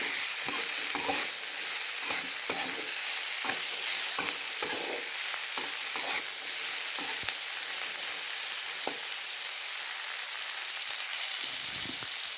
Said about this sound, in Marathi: हे भाजलेले पावटे ॲड केले आपण तेलामध्ये, चांगले भाजून घ्यायचे।